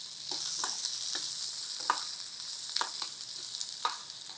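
Onions frying in a pan for a brinjal (vankaya) masala curry, a steady broadband sizzle with scattered soft crackles and pops throughout, close and moderately loud, with no talking.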